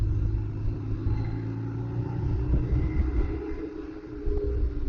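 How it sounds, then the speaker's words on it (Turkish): Steady road traffic rumble heard from a BMW motorcycle on a congested bridge road, with a continuous low engine and wind drone that swells slightly near the end, no talking. "Şu köprü yolunda 7-24 trafik olur mu?"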